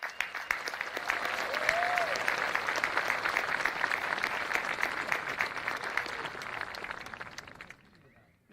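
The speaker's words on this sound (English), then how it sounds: "Let's give the graduates a big round of applause." A large commencement audience applauds the graduating high school seniors, a sustained wash of clapping that stays even, then fades out near the end.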